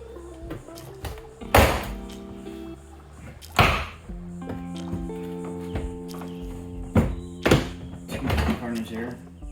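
Plastic trim tabs on a Nissan Leaf door panel pop loose in several sharp thunks and snaps spaced a few seconds apart, with rattling handling noises between them.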